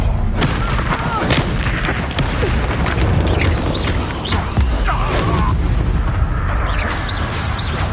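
A Confringo spell in the Hogwarts Legacy game sets off loud, continuous explosive booms and bursts, with heavy impacts in dense combat.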